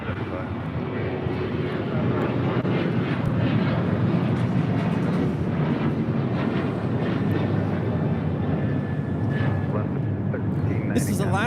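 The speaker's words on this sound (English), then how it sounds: "This is Alaska 1390 taking off to San Jose, Costa Rica on a 737-800." Alaska Airlines Boeing 737-800 taking off at Los Angeles International Airport, a loud steady jet roar that holds throughout, with voices talking over it.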